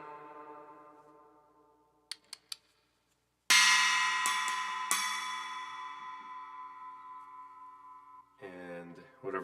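A struck tone rings out and decays slowly in a long, washing reverb tail, with a few sharp clicks before it and a brief voice afterward.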